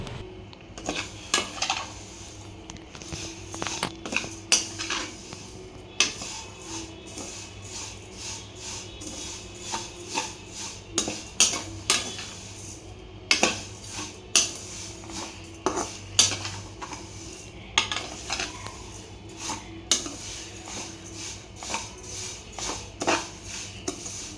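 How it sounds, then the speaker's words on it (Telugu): Vermicelli roasting in a pan at home for masala semiya, with repeated scraping and clinking of a metal spoon against the pan in uneven bursts, close and moderately loud with no talking. "ఇప్పుడు సేమ్యాను దూరగా వేయించుకుందాం"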